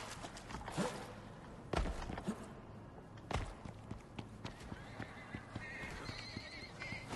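A horse whinnies over clip-clopping hooves, with a few louder neighs and a steady trotting rhythm amid game sounds from the survival game ICARUS.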